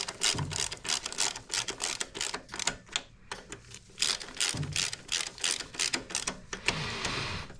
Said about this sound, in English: got these guys snugged on with my ratchet here